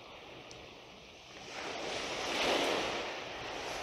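Ocean waves washing in, a soft hiss that swells into a fuller surge of surf and then eases, heard alone and fairly faint.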